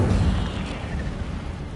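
The Incendio fire spell cast in the video game Hogwarts Legacy, a loud, low, rumbling whoosh of flame that bursts at the start and then keeps roaring steadily, with no talking.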